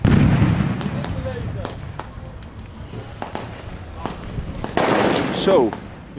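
Firecrackers thrown at a New Year celebration go off as a series of sharp, scattered bangs at varying distances, some close and loud, others distant, with a few people talking faintly between them.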